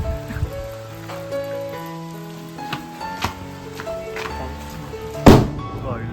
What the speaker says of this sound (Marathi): अचानक भयानक पावसाची सुरुवात झालेली आहे